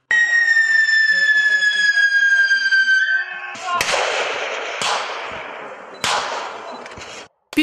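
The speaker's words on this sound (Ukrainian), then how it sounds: "час показових виступів бійці використовували різноманітну зброю, зокрема автомат Калашникова, снайперську гвинтівку Форд 301 а також крупнокаліберну зброю" Kalashnikov assault rifles, a sniper rifle and heavy-calibre weapons firing in a military demonstration, with a few sharp loud bursts following a siren-like rising tone, the shots ringing out with long echoing tails.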